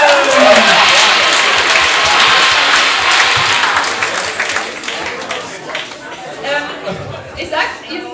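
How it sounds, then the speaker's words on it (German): A crowd claps for a woman introduced on stage at a cabaret-style show, loud dense applause that fades over several seconds into scattered claps, chatter and light laughter. "Einen herzlichen Applaus für Julia Köppel!"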